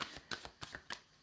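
A stiff tarot deck is shuffled in a few quick riffled bursts, close and crisp, with no talk.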